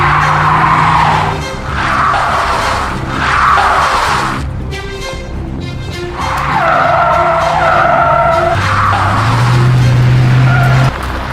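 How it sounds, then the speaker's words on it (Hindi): A car stuck in a pothole revs hard while being pushed, its engine roaring and tyres squealing loudly in repeated surges, with a brief quieter lull partway through and no speech. "गाड़ी स्टार्ट कीजिए, मैं धक्का देता हूँ।"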